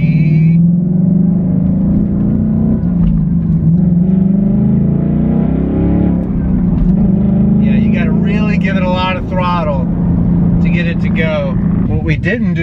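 A 2024 Ford Mustang engine runs as a steady low hum that swells into revving toward the end of the clip, with a voice speaking over it near the close.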